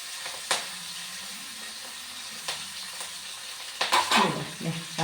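Tempering for roasted-coconut sambar sizzles and crackles in hot oil: a steady close frying hiss, punctuated by occasional stirring clinks, with a louder burst of spattering toward the end.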